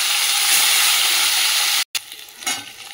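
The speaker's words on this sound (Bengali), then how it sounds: "দেখো বন্ধুরা, তেল তো গরম হয়ে গেছে, মাছগুলো দিয়ে দিচ্ছি" Fish dropped into hot oil in a wok, a loud, steady hissing sizzle that cuts out abruptly for a moment, then returns softer and uneven.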